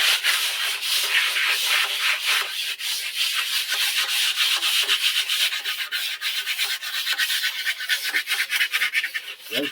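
Hand rubbing or sanding a surface, a steady close scratchy rasp in quick repeated strokes that runs without a break and grows busier toward the end.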